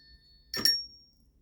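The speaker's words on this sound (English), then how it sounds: "I went and got a bell just for that opening." A small bell rung once, giving a single sharp, bright ding that rings on faintly for a moment before fading into quiet.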